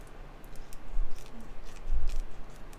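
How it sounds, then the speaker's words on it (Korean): Scissors trim the protruding edges of a handmade paper ice cream card, giving a couple of soft, crisp snips against a quiet room background. "튀어 나와 있는 부분은 가위로 잘라주면 될 것 같아요"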